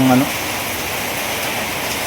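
Persistent rain falls over farmland in bad weather, a soft continuous hiss that follows a brief tonal blip at the start.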